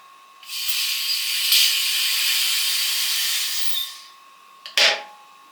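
Residual pressure vents from an autoclave used for canning potatoes with meat in retort pouches: a steady broad hiss of about three seconds, fairly loud, tapering off, then a short sharp burst of venting near the end.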